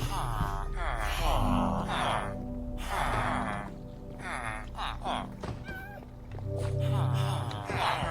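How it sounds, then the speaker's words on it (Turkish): A cat meows a few times in the Minecraft video game, short tonal calls mixed in with someone speaking and faint thunks. "Kedi var."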